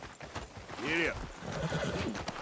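A horse in Red Dead Redemption 2 lets out a clear whinny over the clip-clop of hooves, with background game noise and someone speaking.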